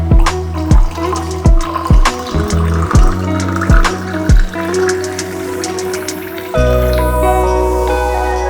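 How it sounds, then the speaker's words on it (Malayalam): Mixed juice, Kerala style, poured from a height into a glass, a run of gurgling splashes and glugs that ends in a loud, steady stream of liquid. "പൊക്കി ഒഴിച്ചു കൊടുക്കാം"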